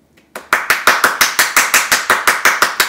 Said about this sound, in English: Clap, clap, clap your hands slowly as can be.